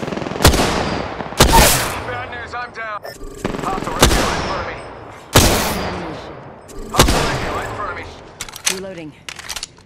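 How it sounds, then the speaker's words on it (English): Gunfire in a first-person shooter game, loud close shots and bursts fired in several separated volleys, each with a sharp crack and decaying echo, mixed with in-game sound effects. "Hostile spotted. Firing."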